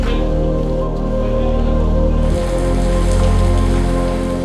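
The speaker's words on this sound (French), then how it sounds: "Il va se mettre à pleuvoir là." Steady rain falls on a building site where a large glazing panel is being installed, a continuous close hiss with a slight swell partway through and no talk.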